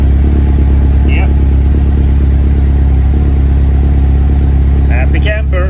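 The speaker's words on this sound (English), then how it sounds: "So, the engine started." A car engine idles steadily and loud right after starting, a low rumbling drone throughout, with a brief voice near the end.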